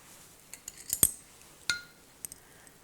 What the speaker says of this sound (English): keep moving that fork around until you get it all incorporated